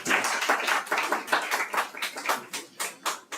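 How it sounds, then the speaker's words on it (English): Participants in an AI hands-on session clap for themselves, a loose scattering of individual claps with uneven rhythm, some hands close and distinct, thinning out toward the end. "give a clap for yourself"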